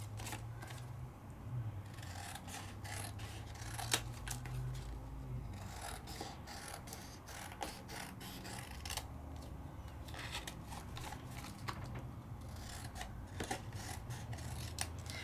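Scissors trim card stock for handmade card making, giving faint, repeated snips and rustles over a low steady hum, with no one talking.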